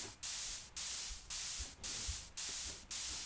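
Synthesized white-noise swells repeat about every half second, each surging in abruptly and fading away, in a steady pulsing pattern of six or so.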